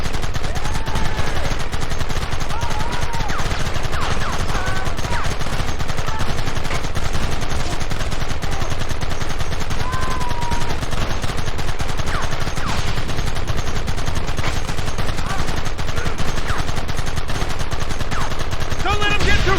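Sustained gunfire from the video game Red Dead Redemption, dense and continuous across the whole stretch, with rapid overlapping shots like a fusillade and a loud steady level, and brief game voices mixed in.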